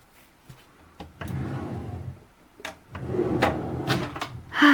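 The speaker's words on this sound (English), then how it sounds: "And don't you love that soft close?" An IKEA PAX soft-close drawer in a beauty room slides shut with a muffled, cushioned thud, preceded and followed by light knocks and handling sounds.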